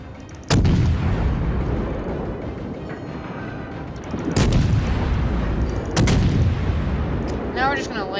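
Warship guns fire in World of Warships, three heavy booming salvos spaced a couple of seconds apart, each a sharp loud crack followed by a long rolling rumble, with a voice briefly audible near the end.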